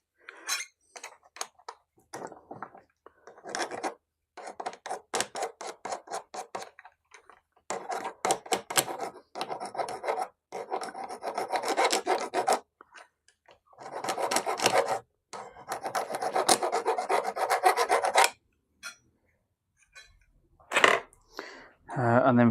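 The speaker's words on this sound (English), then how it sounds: "all we got to do is deburr that. Make sure there's no sharp edges." A hand file deburrs cut metal edges at a bicycle workshop: bursts of rhythmic rasping strokes, close and fairly loud, separated by short pauses, with a few clinks near the end.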